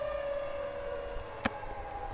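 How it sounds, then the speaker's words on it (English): A steady, faint wailing tornado siren tone holds in the background of a video game, with one sharp click partway through. "It's coming from the tornado siren I put in here."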